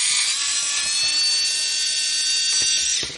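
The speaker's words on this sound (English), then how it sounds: "So I'm going to grab my cordless screwdriver" A cordless screwdriver whirs as it backs screws out of a Fisher-Price beaver toy, a close, loud, high-pitched motor whine running steadily before winding down at the end.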